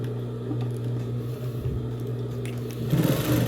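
A sewing machine runs a steady motor hum while stitching a pencil-case box, the whir continuous and close throughout, growing slightly louder and busier near the end.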